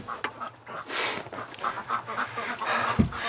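Ducks on a cold, windless winter day calling loudly, a busy flock of overlapping quacks and clucking calls, some close, some farther off, in a constant agitated chatter.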